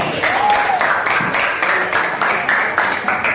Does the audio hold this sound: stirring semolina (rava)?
no